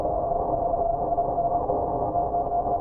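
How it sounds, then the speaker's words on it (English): A received CW signal tone zero-beat against the radio's spot tone, a steady single pitched beep holding evenly over a faint hiss of receiver noise. "The tone of the received signal matched the tone of the spot button."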